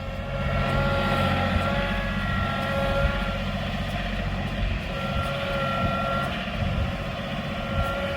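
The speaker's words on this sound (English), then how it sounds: "Katie is killing it out here on the tractor." A tractor drives across a shop building site being prepared for concrete, giving a continuous, fairly quiet engine drone with a steady hum that holds through the whole stretch.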